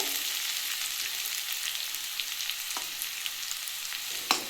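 Steady sizzling of potatoes frying in a pan, with a few sharp pops and crackles near the end, no voices.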